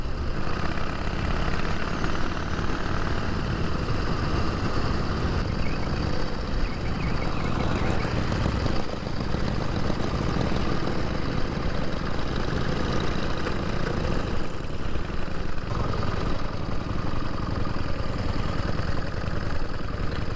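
A pre-1919 Ford Model T car called the Hookmobile, on a rally to Broome, runs with a steady, rough engine rumble that stays loud and continuous throughout, mixed with wind and outdoor noise.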